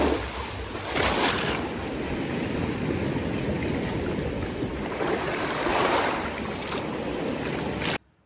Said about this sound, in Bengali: দাঁড়াও একটু আমার ভয়েসটা মিউট করি আর ঢেউয়ের শব্দটা তোমাদেরকে শোনাই।